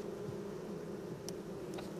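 Honeybees buzz at an open hive during colony combining with newspaper, a steady close drone holding throughout with a couple of brief higher-pitched passes.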